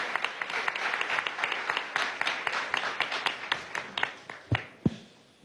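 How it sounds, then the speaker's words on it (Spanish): Crowd applause for party secretary general Eduardo Piñate at a PSUV congress plenary session, a steady mass of clapping that thins out toward the end into a few louder, isolated claps. "Eduardo Piñate, secretario general del partido, para quien pido un gran aplauso"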